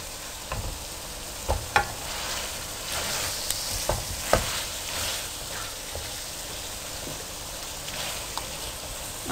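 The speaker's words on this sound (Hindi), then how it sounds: "अब आप ज़ीरे और कीमे को अच्छी तरह से भून लें।" Minced meat and cumin sizzle steadily in a pan for aloo keema, a close, constant hiss broken by a few scraping stirs and soft clanks, with no talking.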